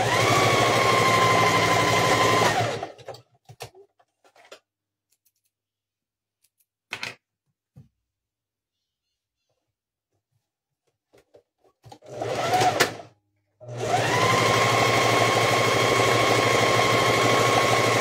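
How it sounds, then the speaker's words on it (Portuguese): Sewing machine stitching fabric for a Christmas house-shaped panettone cover, running in two steady mechanical bursts at the start and end with quiet handling sounds between, no talk. "Então, eu vou costurar daqui pra baixo."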